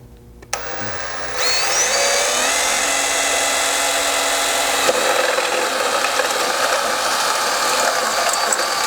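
A ratchet wrench with a 3/4 socket clicks steadily and rapidly, running in 1/2 inch bolts on a Land Cruiser skid plate, a close, continuous mechanical ratcheting for several seconds.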